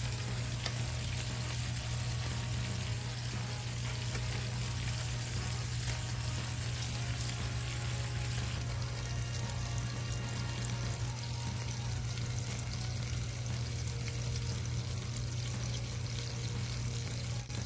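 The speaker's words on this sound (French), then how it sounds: "Laissez-les grésiller jusqu'à ce qu'ils prennent une belle couleur dorée en dessous" Food frying in olive oil until golden underneath, a steady dense crackling sizzle that holds at constant loudness throughout, close and alone with no voices.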